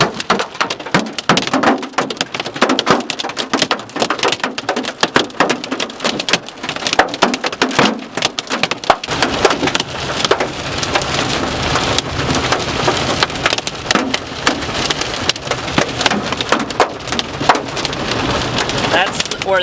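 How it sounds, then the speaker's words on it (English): Heavy nickel-sized hail and rain hammering a car's body and glass in a dense, relentless clatter, intensifying partway through and staying loud throughout. "I get pelted with nickel-sized hail"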